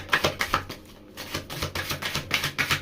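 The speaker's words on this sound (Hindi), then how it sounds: "हम कार्ड्स को शफल करते हैं।" Tarot cards being shuffled by hand, a run of quick riffling card flutters and soft slaps in uneven bursts, close and moderately loud, with a short pause midway and no talking.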